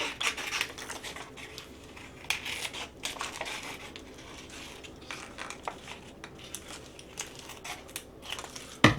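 Scissors snipping through a Dollar Tree rub-on transfer sheet with its backing still attached, a run of close, dry crisp cuts and papery rustles at an uneven pace, quiet throughout.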